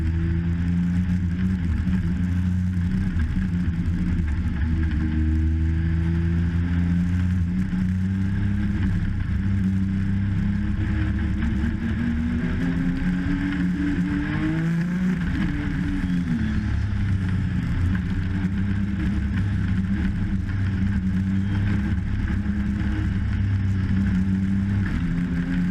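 Legends race cars at Meridian Speedway roll side by side for a restart, a dense, loud chorus of engines droning and rising in pitch together as they accelerate, sustained throughout with no voices.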